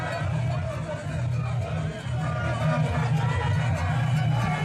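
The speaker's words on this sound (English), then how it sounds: "a mammoth crowd drawn from the Ketu South municipality protesting the operations of a salt mining company" A large crowd of protesters from the Ketu South municipality, demonstrating against a salt mining company, makes a continuous outdoor hubbub of many voices, steady and moderately loud, with rhythmic chanting in the low range.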